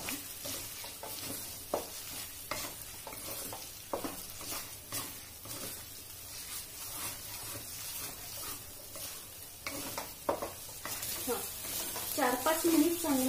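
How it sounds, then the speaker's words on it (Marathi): Ingredients for spicy Nashik-style misal sizzle and fry in hot oil while being stirred in a pan, a steady crackling sauté with scraping stir strokes throughout and no talking. "छान तेल सुटेपर्यंत तो जरा परतून घ्यायचा आपल्याला."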